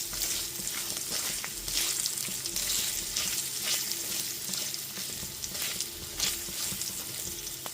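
Spices with asafoetida fry steadily in a pan over a low gas flame for chana dal, a dense, continuous crackling sizzle with faint scrapes and no talk.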